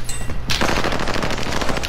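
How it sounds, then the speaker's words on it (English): Sustained, rapid machine gun fire in Call of Duty, loud and close, a dense unbroken burst. "I'm under fire."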